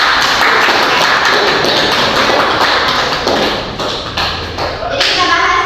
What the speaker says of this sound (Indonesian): Jadi beri aplaus.